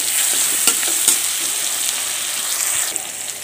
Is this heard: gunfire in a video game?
no